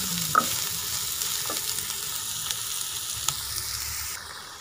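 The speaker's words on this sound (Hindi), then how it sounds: "सबसे पहले घी के अंदर प्याज डाल देना है।" Steady, dense sizzling of onions frying in hot fat, with a few soft clinks of a spoon scraping the pan.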